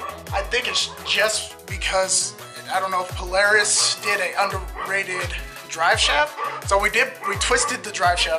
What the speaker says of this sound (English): Sorry about the dogs barking, neighbors.